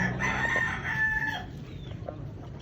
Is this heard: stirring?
no